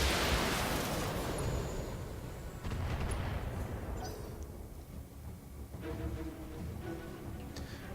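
Weapons fire aimed at a Centurion mech in a giant-robot video game: heavy booming blasts and rumbling impacts that fade in waves over several seconds, loud and continuous, with no talk.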